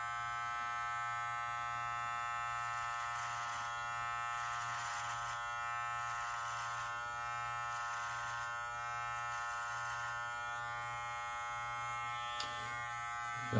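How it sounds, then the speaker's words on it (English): A Live Bearded MT-1 electric beard trimmer hums continuously with a steady, close buzz while trimming a medium-length beard, with faint brushing changes as it moves through the hair and no talking. "So far, so good. Seems like a good trimmer."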